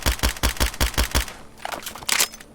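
An MP9 machine pistol fired in the video game Fallout 4, a quick string of about seven evenly spaced loud shots, followed by mechanical clicks and handling noises of the weapon.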